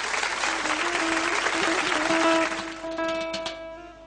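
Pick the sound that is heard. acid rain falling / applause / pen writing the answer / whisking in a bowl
applause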